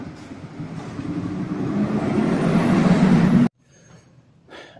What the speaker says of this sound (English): Let's let this trash truck go by.